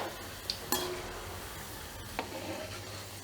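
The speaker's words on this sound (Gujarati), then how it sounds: "ધીમા ગેસમાં આપણે તળી લેશવાનું" Manchurian balls fry in oil over a low gas flame, giving a steady close sizzle with a couple of brief clinks from a utensil stirring in the pan.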